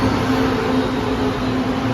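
A train at a station hums and rumbles steadily at close range, with a faint high whine over the low drone and no talking.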